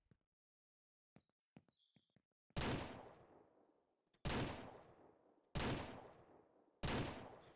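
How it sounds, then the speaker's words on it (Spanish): A pistol in the video game Ranch Simulator fires at a bear: four loud, sharp shots spaced about a second and a half apart, each trailing off in a short echo, after a few faint chirps. "con la pistola hace falta cuatro tiros para matar un oso"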